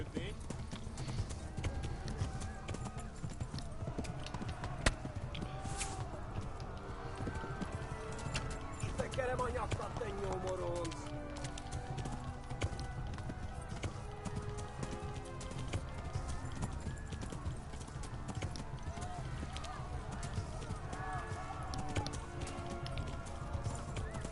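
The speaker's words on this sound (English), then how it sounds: "I just want my horse to run." Horse hooves clip-clop steadily through the whole stretch in the medieval video game Kingdom Come, with an occasional whinny, set under game music and a person talking.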